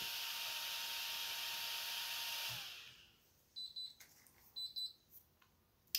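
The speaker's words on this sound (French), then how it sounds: "La radio bip" A hum cuts off, then a few short electronic beeps sound in quick pairs from a Sanwa radio-control transmitter binding to a Hobao RC car receiver, faint and close in an otherwise quiet space.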